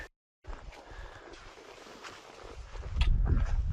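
Icy wind blows through a cold mountain valley on New Zealand's Milford Track, a steady rushing noise with gusts that swell louder near the end, with no talking.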